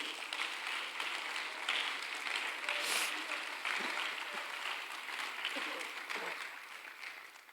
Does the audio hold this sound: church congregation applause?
yes